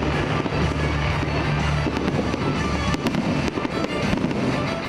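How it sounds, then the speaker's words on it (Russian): Fireworks salute bursting over the city of Brest at the opening of the main Christmas tree, a dense, loud barrage of crackling pops and booms continuing throughout without any talk. "Яркие залпы салюта стали хорошей кульминацией вечера."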